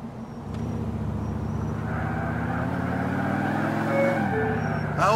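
A car in Grand Theft Auto 4 drives with a steady, close engine drone that rises in pitch as it speeds up, then drops briefly as if shifting, with no talk over it.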